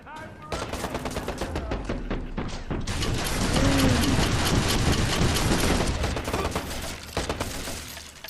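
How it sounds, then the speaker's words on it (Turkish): Enemy bombs explode during a firefight in the Watch Dogs video game: dense, loud rapid gunfire rattles throughout while a sustained roaring blast fills the middle stretch, with faint talk beneath. "Bu arada bomba attılar."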